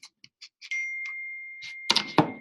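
A phone notification ding sounds as a clear sustained electronic tone, followed by a couple of sharper taps and clicks, set among brief soft noises in an otherwise quiet room.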